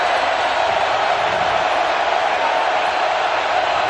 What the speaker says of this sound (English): this big crowd trying to help the underdog Kentucky Wildcats